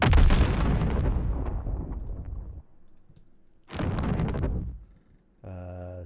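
A designed explosion sound effect built from swooshes: a heavy, gritty rumble that decays slowly, followed by a second deep burst and then a low droning tone, with no talking.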